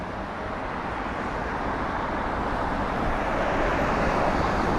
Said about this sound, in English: Airbus A320neo just touching down